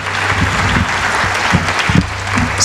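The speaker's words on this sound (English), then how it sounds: "How about another round of applause for that?" A crowd claps steadily in a room, a warm, continuous round of applause at moderate volume.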